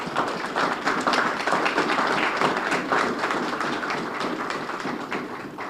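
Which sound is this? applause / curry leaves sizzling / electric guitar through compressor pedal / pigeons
applause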